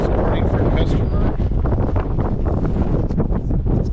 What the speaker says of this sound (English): Like I said, it's windy again today.